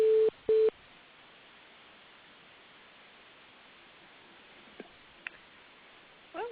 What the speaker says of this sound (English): we're also getting an odd beep on the line